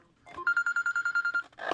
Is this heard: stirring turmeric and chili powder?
no